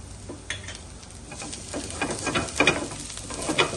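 Garlic sizzles in hot oil in a pan while it is stirred, with soft scraping and clinking strokes that grow busier and louder toward the end.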